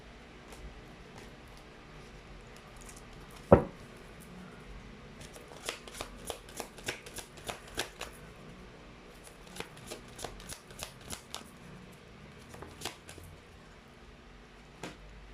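A deck of tarot cards is shuffled in bursts, with quick riffling flutters and soft taps after one sharp knock, close and quiet in a still room, with no one talking.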